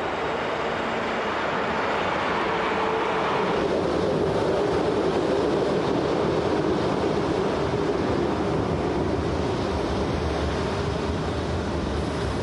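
A BLS train climbs through Goppenstein station, a steady, loud rumble of wheels and running gear that holds alone without a break.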